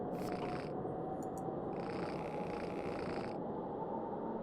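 A cat purrs steadily and loudly in the video game Lost Constellation, a continuous close rumble with no talking over it.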